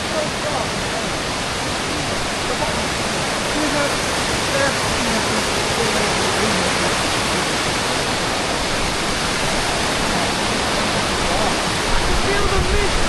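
A large waterfall in Croatia roars in a steady, dense wash of noise that holds unbroken and loud from start to finish, with no pauses or changes in level.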